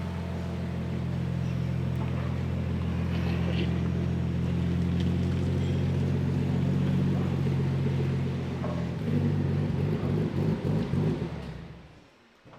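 Nissan S15 Silvia with a turbocharged engine and 8HP70 transmission driving, a loud steady low drone from inside the car that shifts pitch near the end and then fades out.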